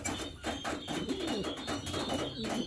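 Pigeons coo continuously in a loft, several birds layered close by in a steady, overlapping murmur of low throaty calls with no talk.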